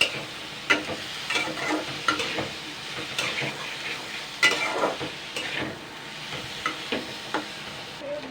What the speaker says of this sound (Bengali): এবার আমি এগুলোকে আমি নাড়াচাড়া করব দুই তিন মিনিট